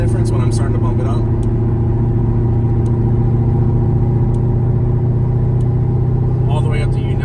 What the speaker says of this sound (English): you can kind of hear the throttle difference when I'm starting to bump it up